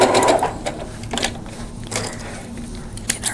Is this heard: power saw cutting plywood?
no